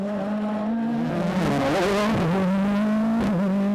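A Ford Fiesta WRC rally car drives a stage at the Mayo Stages Rally, its engine droning loud and close with pitch dips and surges as it shifts and revs, tires briefly scrabbling.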